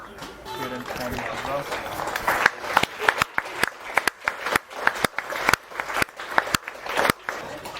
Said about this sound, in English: Leaves the field to a round of applause there, rightly so.